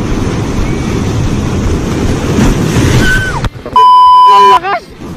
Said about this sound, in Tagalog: Hintay natin yung malakas na alon.